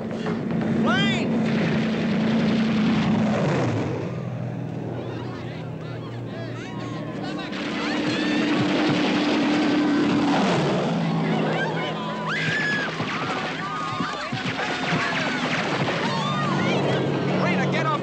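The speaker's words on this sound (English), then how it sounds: "Plane!" An airplane drones overhead in a loud, sustained engine roar that swells and fades, with a second pass rising again, under occasional voices and a horse nearby.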